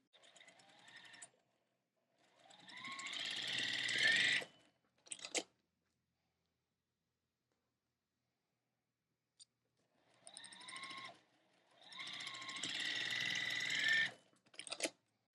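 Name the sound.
sewing machine stitching quilt block corner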